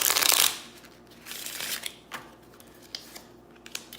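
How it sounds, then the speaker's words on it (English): A quick riffling burst of cards opens the clip, followed by softer scattered flicks and taps as the deck is handled. "I'm gonna shuffle one more time."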